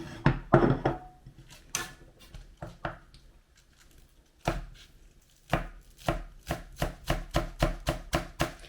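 A knife slices green onions and red and green chili peppers on a cutting board, giving crisp, sharp chopping taps that start irregular and settle into a fast, steady rhythm.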